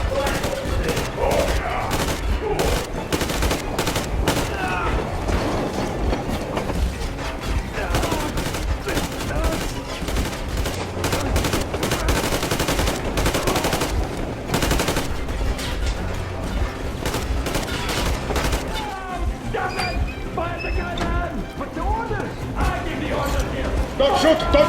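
Sustained gunfire in the video game Metro Exodus, dense bursts of rapid shots and automatic fire cracking loudly and continuously, with brief gaps and clattering mechanical sounds between volleys.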